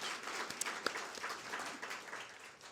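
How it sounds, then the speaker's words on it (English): A library audience at a live author talk gives a short round of applause, faint and somewhat distant, with a few sharper individual claps standing out. "round of applause for the fact that he's here"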